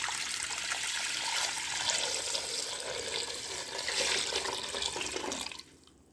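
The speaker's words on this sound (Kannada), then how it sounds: "ನೋಡಿ ಇಷ್ಟು ನೀರು ಹಾಕಿಕೊಂಡೆ." Water is poured steadily into a cooking vessel holding a little soap powder, a loud continuous rushing stream that lasts several seconds before tapering off abruptly.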